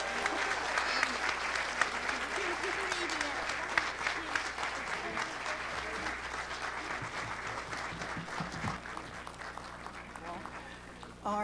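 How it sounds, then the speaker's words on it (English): Sustained audience applause after a children's Christmas program, steady and dense throughout with some voices mixed in beneath the clapping. "I think we should give them another round of applause."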